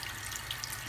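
Tap water runs steadily while a makeup brush is rinsed against the palm of a hand, a close continuous hiss and splatter in a sink.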